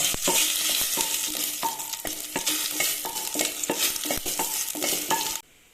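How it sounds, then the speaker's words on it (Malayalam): Dry red chillies frying in hot ghee, a steady close sizzle broken by regular scraping stirs of a spoon in the pan, with no voices. "ഈ വറ്റൻമുളക് ചിലപ്പോൾ ഒന്ന് മൂത്തോട്ടെ കേട്ടോ"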